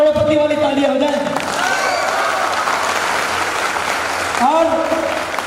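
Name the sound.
audience clapping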